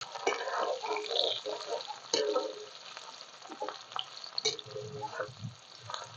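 Onions hit hot oil in a pan while cooking an okra and fish curry, sizzling and crackling steadily at close range, with stirring clatter and no speech.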